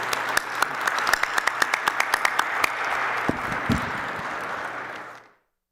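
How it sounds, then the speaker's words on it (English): Conference audience applauding panel speakers in a large hall, a steady wash of many hands clapping with a few sharp nearby claps standing out, sustained for several seconds before cutting off abruptly. "join me in giving a big round of applause to our speakers"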